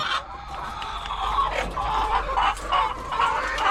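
Laying hens cluck repeatedly in short bursts, fairly close, with a busy farmyard murmur underneath and no talking.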